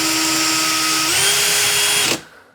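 Power drill spinning sandpaper to sand a small 1.5GT timing pulley whines steadily at close range, the pitch rising slightly midway as it speeds up, then cutting off abruptly near the end.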